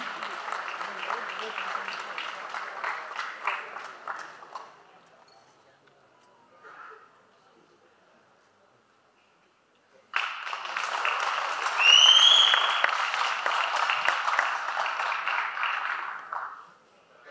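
Applause at a Kannada film critics award ceremony for a best female singer winner, a broad clapping wash that fades to near silence midway, then swells again loud with cheers before tapering off.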